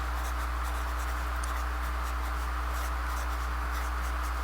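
A pen scratches curly, looping lines across paper in a close, continuous drawing sound, with faint rhythmic strokes over a steady low hum and no one speaking.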